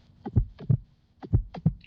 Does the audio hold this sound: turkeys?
no